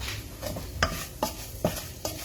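A spoon stirs mince curry with spices in a pan, scraping in four or five regular strokes against the metal with a soft sizzle beneath.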